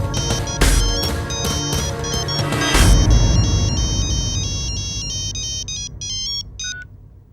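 A phone plays its ringtone during a call, a loud, bright electronic melody of repeated notes that runs steadily and then thins out and fades, with no one speaking.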